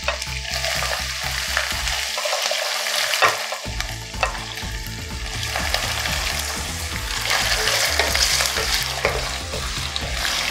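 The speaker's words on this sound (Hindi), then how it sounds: "पहले हम आलू फ्राई करेंगे।" Potatoes fry over high heat in a pan, a loud crackling sizzle with busy stirring scrapes, briefly dipping before surging back steadily.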